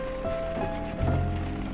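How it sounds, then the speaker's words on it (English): Steady rain falls on a surface in the video game The Blackwell Epiphany, a continuous soft hiss that stays level throughout, with a low game tone humming beneath and no voices. "Stupid rain."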